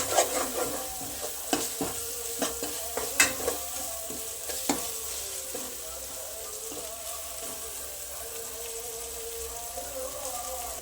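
A tomato thokku mixture with cumin powder sautés in a pan, with clattering spoon strokes scraping and stirring in quick bursts over a soft, steady sizzle that carries on alone once the stirring stops.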